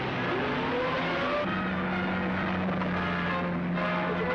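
Car engine roaring during a chase in an old serial film, a continuous loud motor drone with shifting pitch and faint rising whines, no talk over it.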